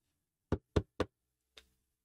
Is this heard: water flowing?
no